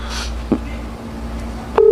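A mobile phone places a call: faint room background with soft clicks, then near the end a steady, fairly loud electronic ringing tone begins.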